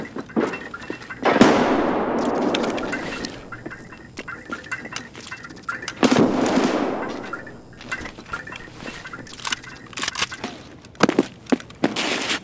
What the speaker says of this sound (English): Get down, grenade.